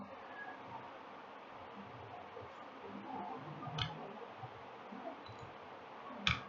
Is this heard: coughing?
no